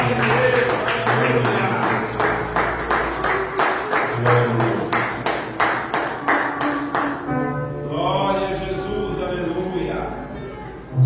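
A church congregation claps in a steady rhythm to welcome the preacher, crisp hand claps repeating evenly for several seconds. The clapping then stops and someone speaks over the room's echo.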